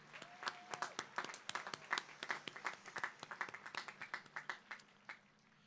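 A small audience at a college commencement ceremony claps for a brass ensemble, fairly sparse, distinct hand claps over several seconds before tapering off.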